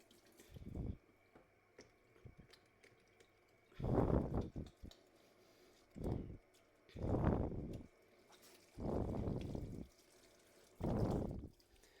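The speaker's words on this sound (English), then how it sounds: "before I get started on preparing the ingredients, wash my hands" A running kitchen tap splashes over hands being washed, in several separate bursts of gushing water about a second or two long, broken by short quiet gaps, close by with no voices.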